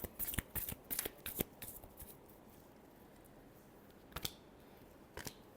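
Tarot cards are shuffled in quick bursts of crisp riffling snaps near the microphone, then a quiet gap before a couple of final slaps of the deck.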